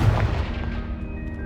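A Confringo fire spell explodes in Hogwarts Legacy, a single deep booming blast that rolls and fades over about a second and a half.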